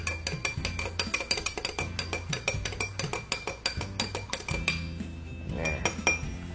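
A spoon clinks rapidly and rhythmically against a glass while glutathione powder is stirred into water, bright close metallic taps that continue alone and then settle into a faint swirl.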